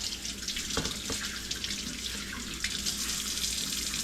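Liquid is poured steadily from a pot into home-canning jars for sweet pickles with mustard seeds, a continuous close splashing trickle with brief heavier gushes, no voices.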